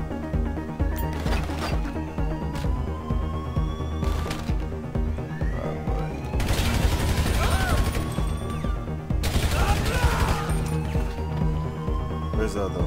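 Gunfire during a casino heist in GTA V, scattered shots and bursts of varying loudness under a dense game soundtrack, while players talk over the action.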